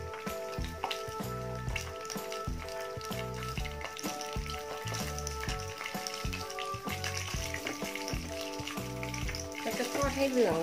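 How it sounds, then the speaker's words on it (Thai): Tofu sheets frying in hot oil in a pan, a steady busy sizzle with crackling bursts that grows louder toward the end, with light talking alongside it. "เราก็จะนำเต้าหู้ลงไปทอดเลยนะคะ"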